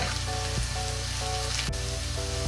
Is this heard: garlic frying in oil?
yes